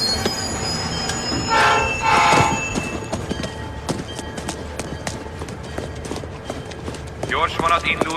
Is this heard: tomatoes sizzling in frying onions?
no